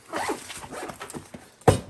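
Zipper on a faux leather carrying case for a GooLoo jump starter power bank, one quick loud zip near the end after a stretch of soft handling noise.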